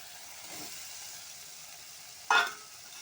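Potatoes frying with spices in a pan for a curry, a faint steady sizzle with a sharp brief hiss and clatter near the end, no talk.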